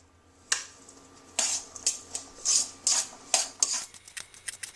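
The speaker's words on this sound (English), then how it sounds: "And then I'm just going to mix it into my mix here." Cooked translucent onions stirred into a vegan sprouted fava bean samosa filling, a series of close, sharp scraping and rubbing strokes of a utensil against a bowl in an irregular rhythm, clear and alone.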